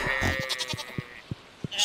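A sheep in the video game Stardew Valley gives a clear, close wavering bleat, followed by a few soft, evenly spaced thuds.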